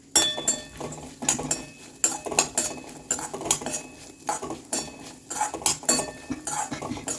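Grated coconut roasting in ghee is stirred briskly, giving rapid metallic scrapes and clinks of a spoon in the pan over a faint sizzle, close up with no voices.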